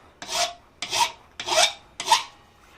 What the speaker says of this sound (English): Clean up the surface, and we'll continue to file. Right at that 60-degree bevel.